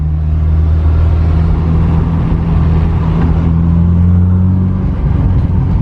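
A turbocharged Acura Integra DA9 engine with an open downpipe idles in a steady, deep rumble with a throaty low drone, close and loud, with a slight change near the end.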